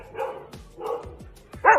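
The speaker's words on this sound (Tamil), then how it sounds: "நாய் குரைக்கும்." A dog gives two soft, separate barks, close and fairly quiet, followed by a brief sharper yip at the end, with no talking.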